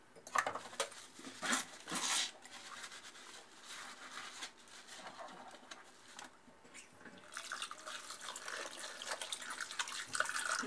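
A cup washed under a running kitchen tap by a blind woman doing the dishes: a steady hiss of flowing water with splashes and a few soft clinks of dishware, close by and moderately loud.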